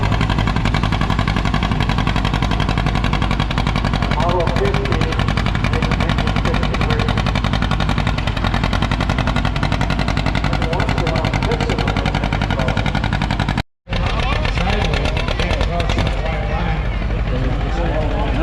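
John Deere 50 tractor engine at a tractor pull, pulling 5,000 pounds at 3 miles an hour: a loud, steady, rapid thumping engine roar throughout, with an announcer's voice over it and a brief dropout near the end.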